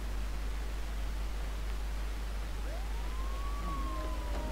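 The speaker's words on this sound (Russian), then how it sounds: "включить сирену в машине" A police car siren wails in the Hello Neighbor 2 video game, a single rising and falling tone that swells in partway through over a steady hiss, moderately faint and with no talk.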